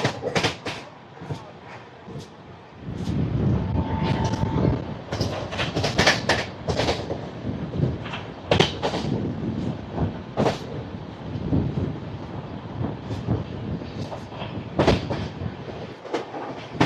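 Express train 17221, Kakinada Port to Mumbai LTT, rolling on rails with steady rumble and rhythmic clickety-clack, punctuated by sharper wheel and coupling bursts, heard from inside the moving coach throughout.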